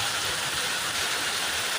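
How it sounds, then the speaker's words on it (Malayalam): Rain pours down in a brief, dense, steady hiss, close and fairly loud, with no voices. "ആസ്വദിക്കുന്നു മഴ ആസ്വദിക്കുന്നു."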